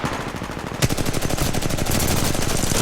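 Rapid automatic gunfire in the video game Titanfall 2 opens with a sharp crack and continues as a fast, steady stream of close, loud shots, with no talking.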